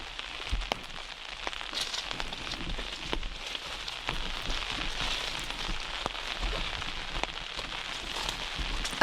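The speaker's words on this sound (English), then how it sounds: "why does it start raining when we come back here?" Steady rain falls and patters on surfaces, with scattered louder drops ticking close by across a constant hiss, with no voices.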